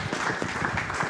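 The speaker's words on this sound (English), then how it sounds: "Can you give a round of applause?" An audience claps at a testimony event, a dense, even burst of applause lasting about a second.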